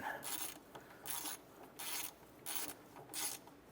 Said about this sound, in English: Just want to snug down this bracket.